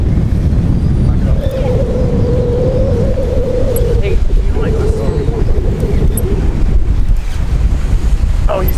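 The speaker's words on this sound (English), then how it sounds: "There's going to be no audio except for this wind." Wind buffets the microphone on a fishing pier, a loud, constant roar lasting the whole stretch, with a faint steady tone running through the middle.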